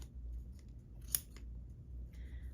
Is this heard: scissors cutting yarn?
yes